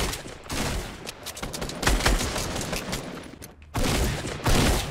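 Rapid gunfire in a Fortnite duo match: sustained bursts of automatic shots crackling loudly, dipping briefly near the middle before a fresh heavy volley resumes, with no talking over it.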